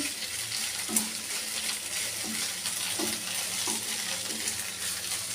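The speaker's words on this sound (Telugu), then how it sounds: "కాస్త వేగనిస్తాం దీన్ని." Curry leaves frying in a pan, a steady soft sizzle with a few faint stirring scrapes and light knocks, moderately quiet and close, no speech.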